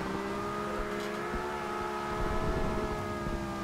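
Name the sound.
Nissan Skyline 2000GTR drifting in Forza Horizon 2, video game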